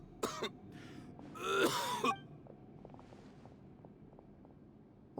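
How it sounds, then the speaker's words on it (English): A character in a Genshin Impact video game cutscene gives a sharp cough, then a longer strained, rasping hack, followed by faint ambient clicks and quiet. "Why is he coughing so"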